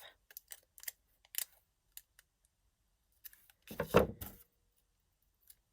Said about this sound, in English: So maybe we can cut this one in half.